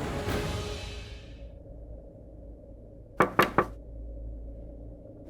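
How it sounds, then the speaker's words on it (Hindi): Three quick, sharp knocks on a door sound close by over a low steady room hum, preceded by a soft rustle. "हमने 2-4 बार नॉक भी किया, आवाज भी लगाई, दरवाजा नहीं खोल रहे वो।"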